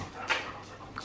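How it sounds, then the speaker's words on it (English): Dogs pant and whimper close by indoors, with soft breathy puffs and a brief high whine over a quiet background. "dogs running around me"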